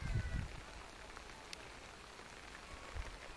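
Steady rain patters and hisses outdoors, a dense continuous wash of drops with a few low thumps near the start.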